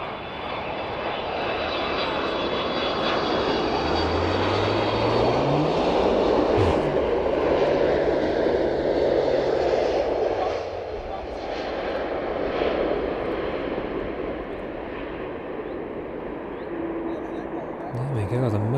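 Maersk cargo aircraft landing at East Midlands Airport, a loud sustained engine roar with a descending whine passing close by, people talking over it.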